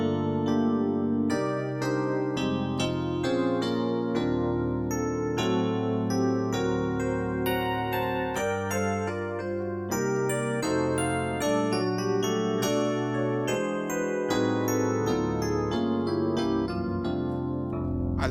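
A Korg Triton plugin's Digi EP electric piano preset plays a busy sequence of bright, bell-like chords and melody notes, steady and fairly quiet, with no talking over it.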